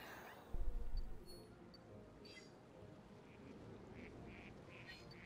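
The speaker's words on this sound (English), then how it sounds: "Oh, we got some crows." Crows caw in the video game New Pokemon Snap, a series of soft repeated calls toward the end over a low ambient game background, after a brief louder thump.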